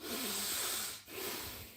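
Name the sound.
chest breathing demonstration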